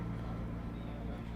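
A groundsman's tractor rumbles steadily at a cricket ground, its low engine drone continuous and fairly distant throughout, with no clear voices over it.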